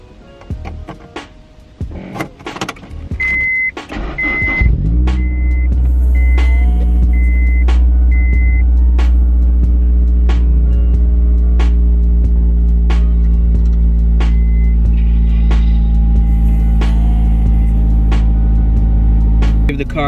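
A Honda S2000 engine cranks and fires after clicks and a chime sequence, then settles into a loud, steady low idle rumble close by, with brief speech early on and periodic clicks throughout.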